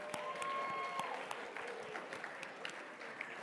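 Applause from an auction audience for the winning bidders at a memorial auction, sounding as steady, moderately distant clapping that runs the whole time.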